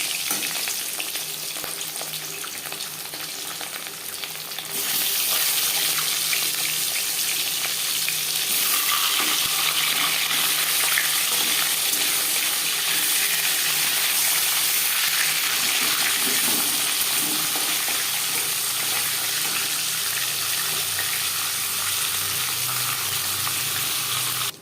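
Marinated fish slides into hot refined oil and bursts into a loud, steady sizzle. The frying hiss jumps up sharply after a quieter start and keeps going strongly throughout.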